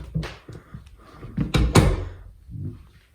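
A room door in a home swings and shuts with a few wooden knocks and a firmer thump near the middle, close and moderately loud, with some faint rustling around it.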